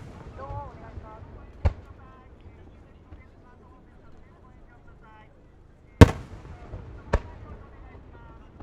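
Fireworks at the Edogawa fireworks festival in Tokyo, with three sharp bursts standing out above a background of crowd murmur and voices.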